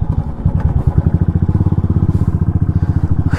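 A Royal Enfield Classic 350 BS3 motorcycle being ridden, its single-cylinder engine thumping in a loud, steady, rapid pulse close to the listener, with no talk.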